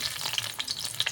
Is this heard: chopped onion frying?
yes